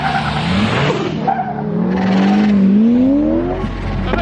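Straight-piped pro drift cars launch hard off the start line at a drift event. Loud, near engines rev and roar, tires squeal in a rising whine as they pull away, with no talk over them.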